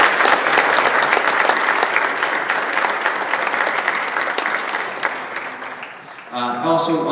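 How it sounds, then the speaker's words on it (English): An audience at a high school concert band spring concert gives a loud, sustained round of applause that fades near the end, where a voice begins speaking. "join me in a round of applause for our boosters and for our parents"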